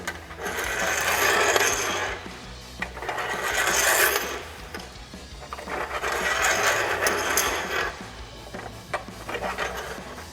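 Metal double bolt plates slide and scrape into the frame slots of a Jeep Gladiator JT, making repeated rasping, grinding metal-on-metal sweeps in three or four close, fairly loud passes with small clanks between.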